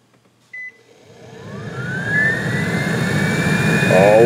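A Nissan Xterra engine cranks and catches, then a rising high whistle from the blower motor climbs and holds over a steady roar, growing louder toward the end.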